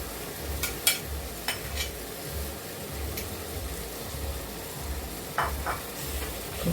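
Kienyeji vegetables, suga and dodo, sizzle steadily in a hot pan, with a dense crackling fry and a few sharp clatters of stirring near the start and end, close and continuous with no talking.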